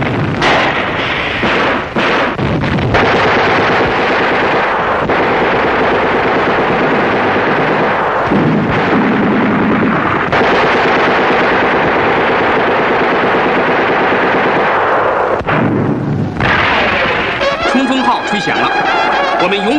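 Gunfire and artillery boom through a 1950 battle film of the Chongchon River campaign in Korea, with dense, loud, continuous bursts and blasts under a voice, and music rising near the end.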